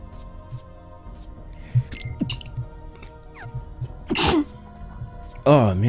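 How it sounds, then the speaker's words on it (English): A single loud sneeze bursts out near the end, preceded by a shorter sharp breathy burst, over quiet background sound from a Kingdom Hearts RE: Chain of Memories boss fight with faint music and game effects. "Oh man, sorry, I had to sneeze."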